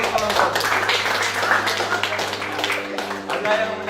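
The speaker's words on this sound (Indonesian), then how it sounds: "beri tepuk tangan untuk kelompok" Students in a classroom clap for a group, a loose scattering of hand claps mixed with voices talking over and around them.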